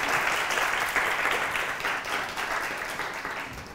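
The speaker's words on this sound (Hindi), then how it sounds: "अयाद के लिए तालियां तो बजाइए आप लोग।" An audience claps for a young boy in a steady, dense round of applause, moderately loud and evenly sustained for a few seconds.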